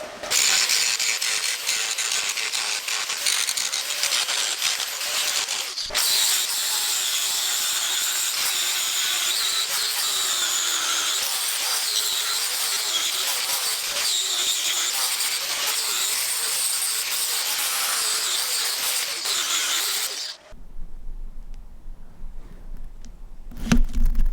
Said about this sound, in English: I'm going to grind it down and see if I got any more spots